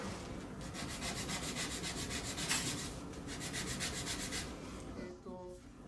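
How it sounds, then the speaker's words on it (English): A wooden xylophone bar being sanded by hand at its tip, rapid close rasping back-and-forth strokes in an even rhythm that stop near the end. "sand it a bit."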